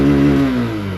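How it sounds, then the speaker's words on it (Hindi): A Bajaj Platina 100cc motorcycle engine revs hard at full throttle, a loud, steady mid-pitched drone with a strong harmonic whine that eases slightly toward the end, heard up close with no talking. "अब मैं दिखा रहा हूं आपको 100 सीसी की इंजन साउंड"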